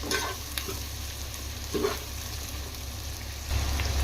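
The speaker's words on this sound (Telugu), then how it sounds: "ఈ onions light golden brown colour రావాలండి" Sliced onions fry in a pan for mushroom pulao, giving a steady close sizzle broken by occasional scraping stirs, with a heavier stir near the end.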